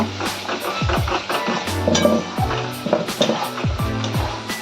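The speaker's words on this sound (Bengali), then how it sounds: "তো মশলাটা এখন ভালো করে কষিয়ে নেব" Masala spices fry and sizzle in a pan for a chicken kosha, about one kilogram of chicken. A steady, close sizzle runs throughout, with a utensil scraping and knocking against the pan in a regular rhythm.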